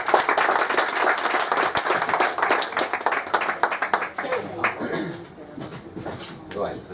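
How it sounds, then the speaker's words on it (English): An audience at a Python programming meetup claps for the first speaker, a burst of dense hand claps over about four seconds that thins to scattered claps, with speech mixed in. "clap your hand for the first speaker."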